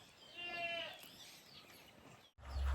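Goats bleat outdoors on a farm, a short wavering call close by, followed by quieter rustling and a brief thump.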